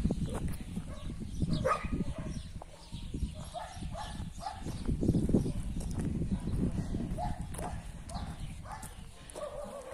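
A playful dog barks in repeated short bursts during an outdoor walk with other dogs, the barks moderately close over steady rustling and footsteps, with a person's voice faintly in the background.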